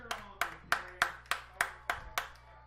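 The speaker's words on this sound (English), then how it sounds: "Russ is teaching the home crowd how to clap when something good happens." A home crowd at a varsity men's football game claps in slow, even unison, eight crisp claps roughly a third of a second apart, moderately near with no talking.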